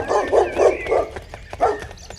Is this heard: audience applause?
no